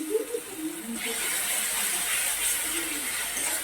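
Grated onion dropped into hot oil with ginger sizzles in a steady, hissing wash close by. It stays even throughout, with faint low clatter early on.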